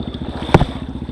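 Outboard boat engine idling steadily just after being pulled to start, with a regular low throbbing pulse and a single brief louder knock partway through.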